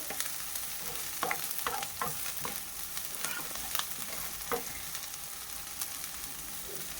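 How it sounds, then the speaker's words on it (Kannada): Chopped green chilies fry quietly in a pan with a constant crackling sizzle. Scattered spatula clicks and stirring scrapes cluster early, with no speech. "ನೋಡಿ ಯಾವ ರೀತಿ ಫ್ರೈ ಆಗ್ತಾ ಇದೆ ಇದು."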